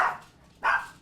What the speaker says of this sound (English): I don't even know why they're barking.